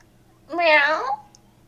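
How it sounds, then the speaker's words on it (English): A cat in the video game Trails of Cold Steel gives a single short, clear meow of about half a second against quiet background music. "Here's that little cat."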